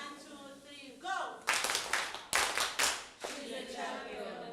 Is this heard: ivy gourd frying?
no